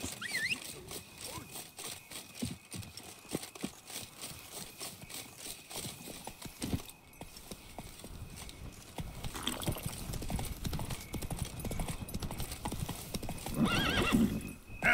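Horse hooves clip-clop steadily in The Witcher 3: Blood and Wine, a continuous trotting rhythm over game ambience, with a whinny near the end.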